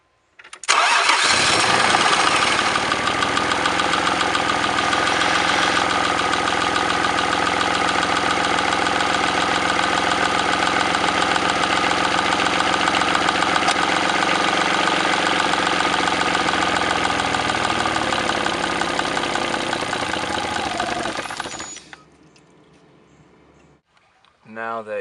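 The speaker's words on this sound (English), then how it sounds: "you're going to start your car, and then with it running" A Mazda MX6 car engine cranks and catches, then idles loudly and steadily up close for about twenty seconds before cutting off.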